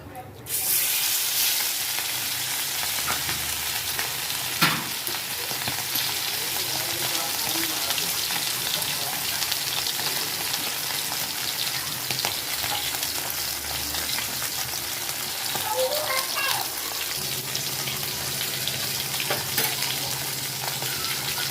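Pomfret sizzles and spits in hot oil in a pan, a steady loud frying hiss throughout with occasional stirring knocks and a brief clatter near the start.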